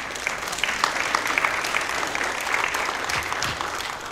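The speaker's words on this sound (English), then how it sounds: "I think applause is very appropriate." Steady audience applause at a church family-life talk, a dense even wash of many hands clapping that holds at one level throughout, with no speech over it.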